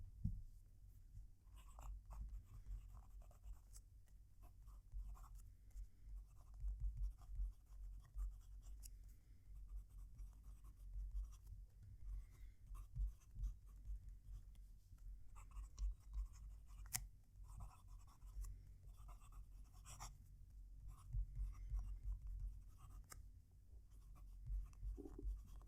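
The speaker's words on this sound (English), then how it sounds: "There was definitely some noise coming off the pen, so I could hear it writing" Faint scratching of a Kaigelu 316 fountain pen nib moving across paper, soft irregular strokes close to the microphone against a quiet low hum.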